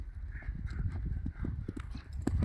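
A horse's hooves beat out a quick, uneven clip-clop on the ground, close and moderately loud, with faint voices and handling sounds around them.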